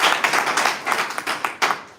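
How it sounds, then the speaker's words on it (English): An audience at a Northern Uganda bodybuilding, powerlifting and arm wrestling championship gives a short burst of clapping, with uneven, separate hand claps close by and no talking. "let's clap for her"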